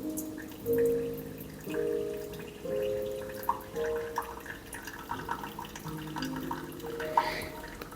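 Coffee dripping from a Flair 58 lever espresso press as the lever is plunged down, a soft, close trickle of liquid with faint ringing tones in a quiet kitchen setting.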